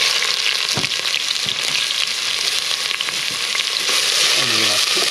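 Chopped onion sizzles in olive oil in a hot pan, a loud steady frying hiss with occasional stirring scrapes and clatter, no talking.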